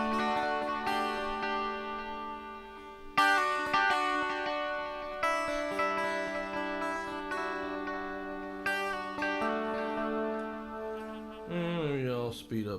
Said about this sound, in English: I'm gonna give you some delay.